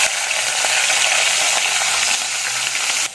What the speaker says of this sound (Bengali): আমি ইলিশ মাছের মাথাটা ধুয়ে পরিষ্কার করে রেখে দিয়েছি এটা আগে ভেজে নেব তেলের মধ্যে দিয়ে